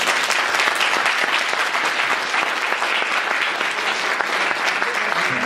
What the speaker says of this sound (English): Round of applause for Mr. Surrey again.